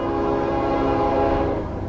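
A Norfolk Southern freight train led by ES44DC locomotives approaches in South Plainfield, New Jersey. A loud, steady horn blast sounds over the rumble of the train, close and sustained for the whole moment.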